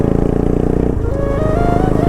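Raw motorcycle exhaust rumbles loud and close, a steady throbbing idle that shifts pitch midway, from a bike with about 19,220 km on it, with no talking over it.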